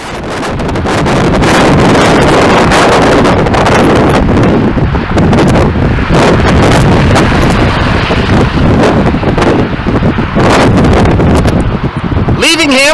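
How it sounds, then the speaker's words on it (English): Strong, cold wind on Manitoulin Island buffets the microphone with a loud, continuous roar and gusty rumbling for the whole stretch. "It is windy and it is cold"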